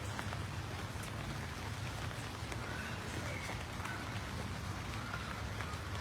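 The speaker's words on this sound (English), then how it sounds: "It's raining, so it's going to be short and sweet." Steady rain falls during an outdoor home dedication ceremony, a dense, even hiss of drops on surfaces that holds at a constant level throughout, with no voices over it.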